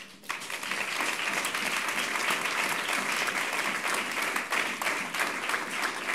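Dense, sustained applause fills a hall at an atomic engineering diploma ceremony as graduates are honored, a steady roar of many hands clapping throughout.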